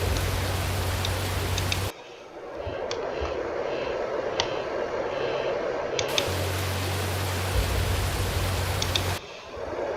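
Rain pours in a tornado-chasing video game as a dense, steady hiss of falling water, loud and constant, with the low rumble shifting in and out at intervals and no voices present.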